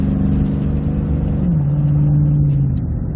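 A deep Toyota Tundra pickup V8 engine rumbles steadily up close, its pitch dropping as the revs ease off partway through, with no talking.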